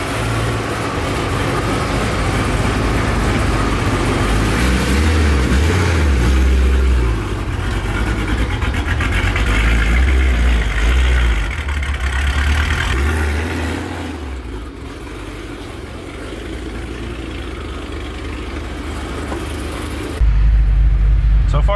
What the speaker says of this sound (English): we're gonna drive around, make sure it's good